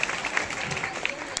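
An audience at a school farewell ceremony claps to welcome a student performer. The steady, moderately loud crowd applause continues throughout, with voices talking over it.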